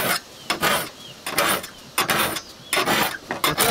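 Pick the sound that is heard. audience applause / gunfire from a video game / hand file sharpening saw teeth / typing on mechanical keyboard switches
hand file sharpening saw teeth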